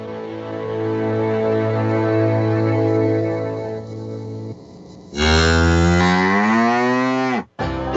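Cattle moo in a radio advertisement: one long, low, droning moo runs for several seconds, then a louder, higher moo slides downward before a brief cutoff.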